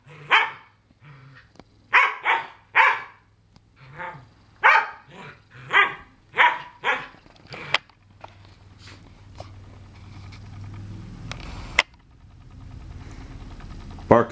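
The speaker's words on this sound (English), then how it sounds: "Bark him down." A dog barks in a quick series of sharp, fairly close barks, several spaced bursts early on, then a low growling rumble with an engine-like drone underneath and an occasional sharp knock.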